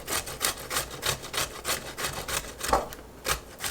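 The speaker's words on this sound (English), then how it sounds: "It takes a little time to grate these also." Cucuzza squash is grated by hand on an old-fashioned grater, a close, rhythmic scraping of repeated rasping strokes about three per second, with no talk.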